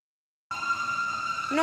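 A fire truck siren wails loudly and steadily, rising slightly toward the end, heard alone without talk.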